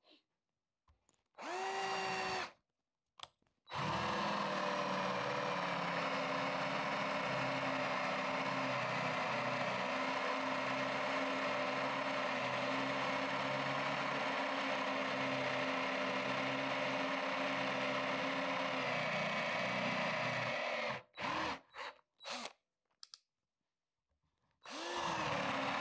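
A Parkside 20V cordless drill bores a 36 mm hinge hole with a hinge-boring bit, giving a loud, steady whirring drone that runs for about seventeen seconds after a brief start, then stutters through a few short bursts before stopping.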